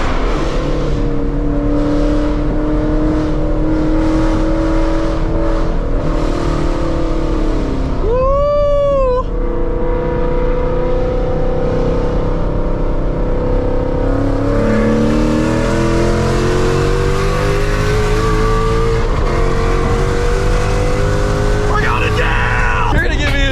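A rebuilt second-generation Mustang accelerates hard, its loud engine roaring and rising through the gears with a sharp snap and whine between shifts, heard steadily from close by.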